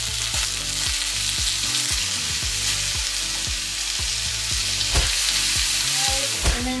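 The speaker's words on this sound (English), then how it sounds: "I'm gonna add the onion in." Onion fries in a hot pan for a ramen dish, a loud, close, continuous sizzle with steady crackle running throughout alongside a low, repeating rhythmic hum.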